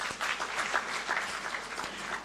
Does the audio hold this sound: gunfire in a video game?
no